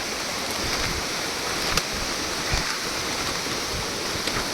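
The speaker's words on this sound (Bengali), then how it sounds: "এ দেখো কন্টিনিউয়াস আমরা ছোট ছোট নদী পার করে যাচ্ছি।" Steady rushing water fills the scene, a broad continuous wash of small rain-fed mountain streams flowing nearby on the Rudranath trek, with a few faint knocks and no voices.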